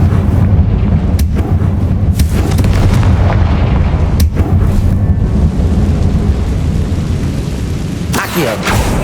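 Confringo fire spell blasts in Hogwarts Legacy, a dense barrage of loud booming explosions that rumble continuously, with sharp cracks recurring every second or two.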